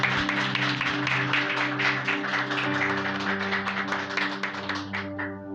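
Church congregation clapping along during a service, a steady rhythmic patter of many hands over sustained organ or keyboard chords, fairly soft and continuous, fading slightly at the end.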